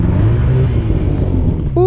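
Arctic Cat snowmobile engine revving steadily at close range as the clutch back shifts, a loud rumbling drone that holds for under two seconds before a brief rising tone at the end.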